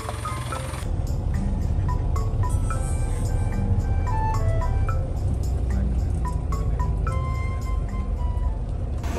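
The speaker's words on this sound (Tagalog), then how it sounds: "So, andyan na yung bus natin." A bus pulls up on a cold night street in Korea, its engine a steady low rumble throughout, with a sudden brightening of noise near the start and scattered clinks and tonal chimes over it; no one speaks.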